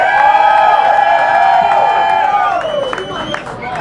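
A crowd cheers and hollers loudly for JR and Jay Hurt, a sustained wall of voices with whoops and a few claps that tapers slightly toward the end.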